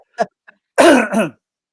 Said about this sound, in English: I feel like I need to clear my throat